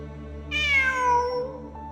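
A cat in the video game Genshin Impact lets out a single clear, drawn-out meow that slides downward, loud and close over a steady low background hum.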